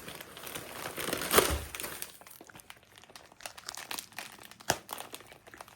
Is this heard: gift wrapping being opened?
yes